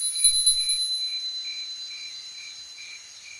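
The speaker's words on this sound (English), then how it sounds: "I take the bell and I start to ring it." A small handbell rings with a bright, sustained high tone that pulses softly and fades slowly over a few seconds, heard alone and close by in a quiet setting.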